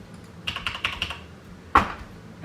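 Quick keys tap on a computer keyboard in a short, close run of about five clicks, then a brief pause before one louder, sharper strike.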